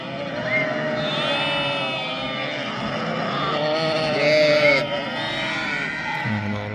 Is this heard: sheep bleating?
yes